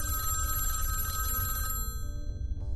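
An old-style telephone bell rings steadily and continuously for a couple of seconds indoors, then cuts off abruptly, leaving a faint tail of quieter ringing; no talking.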